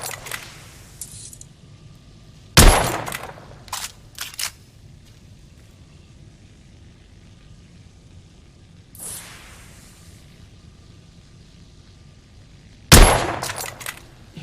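Gunshots ring out in The Order: 1886 video game: a few sharp, loud single reports spaced seconds apart, each with a short ringing tail, separated by a quiet ambient hum.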